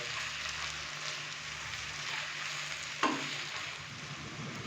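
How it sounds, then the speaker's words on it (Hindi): Chicken with freshly added spices fries in a pan for a chicken and green peas curry, a steady soft sizzle with one sharp clack of a utensil partway through. "और इसको थोड़ा सा और भून लेंगे ताकि जो हमने अभी इसके अंदर स्पाइसेस डाले हैं तो उनके साथ भी चिकन की अच्छे से भुनाई हो जाए"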